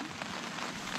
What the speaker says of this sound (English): now it is well and truly raining